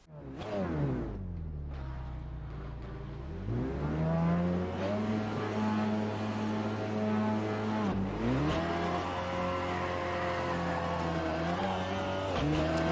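An Audi WTCR race car laps the Nürburgring in Assetto Corsa VR, its engine revving hard through repeated upshifts with sharp drops between gears, loud and close throughout without voices.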